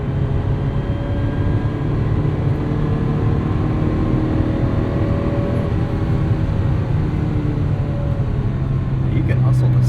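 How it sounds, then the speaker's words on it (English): A 1980 Ferrari 308 GTBi with a gated 5-speed, heard from inside while driving: a steady, loud engine drone holds throughout, with a constant low hum and no change in pace. "Also just Ferrari noises"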